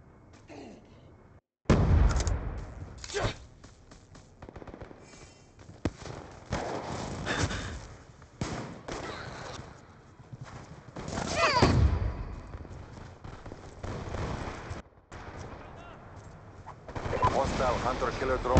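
Video game gunfire crackles in irregular bursts and single shots, some near and loud, others fainter, amid battlefield noise and game voice chatter.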